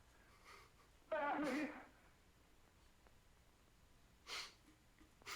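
A single sharp sneeze bursts out near the mic in a quiet room, followed by a couple of brief breathy sniffs, with no talk over it.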